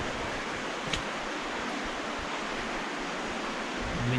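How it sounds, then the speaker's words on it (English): A tiny creek in the Colombian countryside gives a continuous soft rush of flowing water, even and fairly quiet throughout with no voices. "So here we have a little tiny creek"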